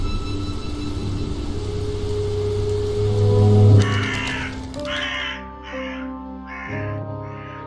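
Raven in a video game based on The Raven gives a run of harsh, rasping caws, about five loud calls in a row over a low rumbling ambient drone.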